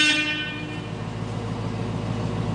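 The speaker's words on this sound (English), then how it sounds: "It's got the beep beep horn." A vintage car's horn sounds one brief, bright honk at the very start, then fades into a low steady rumble of engine or background noise.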